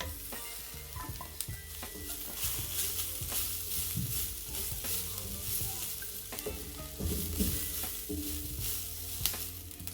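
Broccoli leaves sizzle steadily in a hot frying pan, a continuous loud hiss with occasional stirring scrapes and clinks, close up and without any talking.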